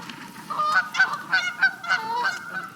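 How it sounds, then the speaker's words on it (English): Geese squabble over territory at a Kansas campsite, honking loudly and repeatedly in quick, overlapping bursts close by, with no talk over them. "We're having a goose fight."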